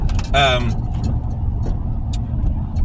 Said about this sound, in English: hold on, I'm watching the cars here